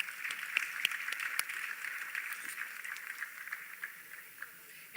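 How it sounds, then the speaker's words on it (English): A conference audience at a continental youth, peace and security dialogue in Africa applauds panelists, a steady wash of many hands clapping at moderate distance that holds for several seconds and slowly thins out. "Another round of applause."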